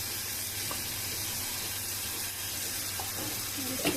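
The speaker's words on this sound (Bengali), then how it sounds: "কড়াইটার মধ্যে একটু পানি দিয়ে দিচ্ছি।" Water is poured into a karahi of sautéed shrimp and onion, producing a steady hissing sizzle with faint bubbling and a few light clinks, close and continuous.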